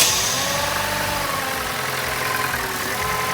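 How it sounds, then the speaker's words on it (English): A Vauxhall Corsa C 1.2 petrol engine running steadily just after starting, a close, loud, even idle hum. "the vehicle now starts"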